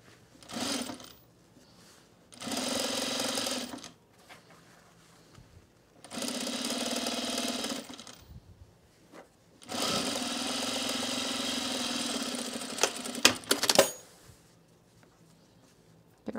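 A sewing machine stitching a men's utility jacket runs in four separate bursts of steady, close mechanical whirring, with short quiet pauses between them and no talking.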